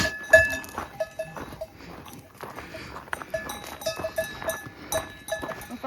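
Cows wearing cowbells on the Seceda trail in the Dolomites, clanking bells ringing irregularly and close by as the animals move along the path, with soft shuffling and hoof sounds between clanks.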